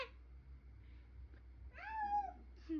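A house cat meows in a home, giving a clear rising-falling call near the end after a faint earlier mew, close and fairly loud over low background hum.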